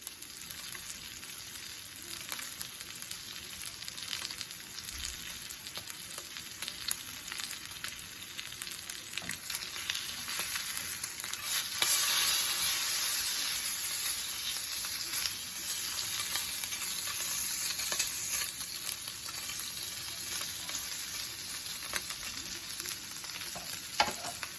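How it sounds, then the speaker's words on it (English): Thick-cut cherrywood smoked bacon sizzles steadily in a frying pan, a continuous close crackle and hiss that swells slightly midway and carries on alone without talk. "Look at that thick cut piece of bacon. All right, that's going to go on"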